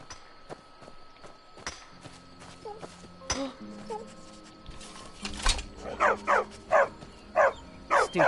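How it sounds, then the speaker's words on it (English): A dog in Skyrim barks in a quick series of loud, close yelps toward the end, after scattered footsteps and faint ambient game sounds, with no one talking. "Stupid dog."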